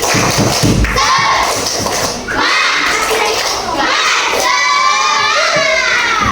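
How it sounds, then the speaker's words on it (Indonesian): Schoolchildren in a classroom shout the tepuk semangat chant together, loud and close, with rhythmic claps and thumps punctuating their voices. "Sekali lagi dong, tepuk semangat."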